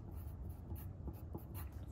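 Pen or pencil writing an answer on paper, faint, close scratching strokes in short bursts against a quiet room.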